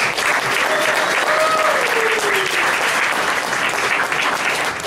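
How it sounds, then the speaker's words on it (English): Loud, sustained applause from a meeting audience welcoming a speaker, thick and continuous throughout, with a few faint voices or whistles rising briefly within the clapping. "Give him a round of applause."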